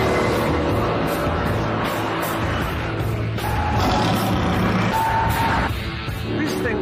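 A Mercedes E63 AMG estate with a 6.2-litre V8 roars loudly and steadily at high revs, close and continuous, with tire noise and a faint shifting pitch as it drives hard.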